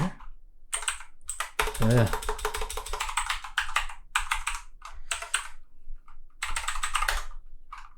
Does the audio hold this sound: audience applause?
no